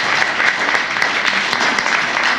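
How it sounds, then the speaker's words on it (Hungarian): Loud, dense applause from an indoor audience for a woman named Szilvi, a continuous close wash of many hands clapping together throughout. "egy hatalmas tapsot kérek neki"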